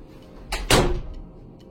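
A door swings shut with a short scrape followed by a solid thud, a single close closing sound in an otherwise quiet room.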